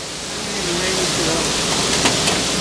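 Heavy rain pours steadily on an outdoor street where a delivery scooter got caught in the downpour, a dense constant hiss close to the microphone, with faint voices murmuring underneath.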